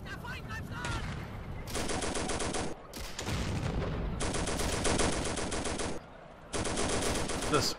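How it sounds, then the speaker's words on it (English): Tank machine gun fire from a Pz.38 light tank in the Steel Fury Kharkov 1942 game, several long rattling bursts of rapid shots separated by short pauses, close and loud over a low engine rumble. "Firing a bit of MG just to try and clear down the remaining members of the crew."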